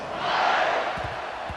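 A football stadium crowd roars at Texas vs. Oregon, a broad swelling wash of cheering that peaks and then settles into a sustained murmur, with brief low thumps near the end.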